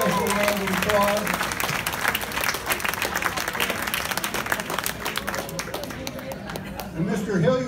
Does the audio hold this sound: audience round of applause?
yes